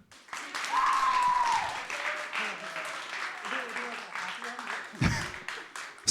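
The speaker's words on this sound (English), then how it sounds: "Let's get some claps for Seb." A crowd applauds at an esports LAN tournament award ceremony, a dense burst of clapping that rises quickly and sustains for several seconds with cheers and whoops mixed in.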